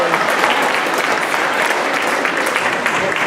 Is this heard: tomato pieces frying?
no